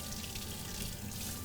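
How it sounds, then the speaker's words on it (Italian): Cold tap water runs steadily over a piece of veal in a kitchen sink, producing a continuous, close splashing rush with no pauses and no voices. "Andiamo a dargli una sciacquata in acqua fredda"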